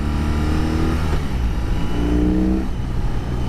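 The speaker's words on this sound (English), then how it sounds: "it sounds really nice. It's not loud. I don't know exactly how to, it has like this this deep rumble." A 2021 BMW R 18 twin boxer motorcycle revs close by, its deep, rumbling exhaust rising in pitch twice in quick throttle blips, without talk.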